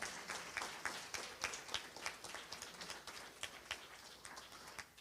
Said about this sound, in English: And can we also clap for all the other fellows who are here?